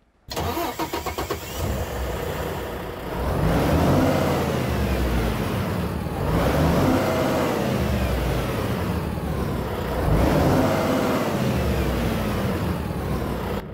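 Volvo VNL truck engine in American Truck Simulator cranking and starting, then a deep diesel rumble that swells into several slow revs and settles to idle between them, loud and close with no talking.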